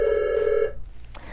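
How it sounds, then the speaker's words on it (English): An office telephone rings at a drilling company, one steady electronic ring tone lasting just over half a second, then cutting off to a quiet room hum with a faint click after. "the phone never stops ringing"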